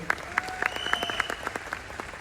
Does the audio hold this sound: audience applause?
yes